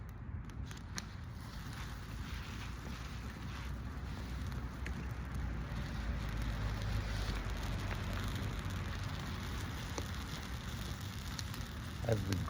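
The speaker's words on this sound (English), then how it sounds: "As the green limbs start to really take the fire, you'll hear them crackle." Green limbs crackle and hiss in an outdoor campfire, a faint, steady patter of small pops with a few sharper snaps near the end and no talking.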